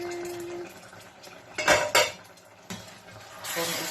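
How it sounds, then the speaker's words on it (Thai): Metal clanks and clinks of a lid being lifted from a pot of baked fish in a home kitchen, a few sharp knocks close by with quiet handling sounds in between. "เขาก็ต้องมาเปิดฝาปลาอบดูแอนแอน"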